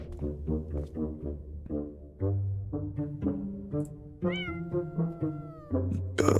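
An AI-generated cat voice meows over and over in long, tonal, drawn-out cries. The calls are fairly loud and close, with breathy noise at the start and end.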